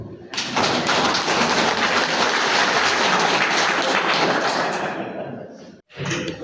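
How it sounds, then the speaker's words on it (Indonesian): Loud, dense clapping from an audience at a cooperative members' meeting in Sikka, Indonesia, sustained for several seconds before dying away abruptly, followed by a brief burst of noise. "Tepuk tangan aja."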